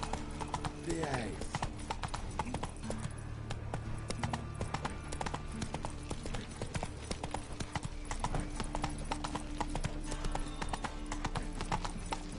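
Roach the horse clip-clops steadily in The Witcher 3, hooves striking in a regular walking rhythm under a voice, with game music faintly in the background.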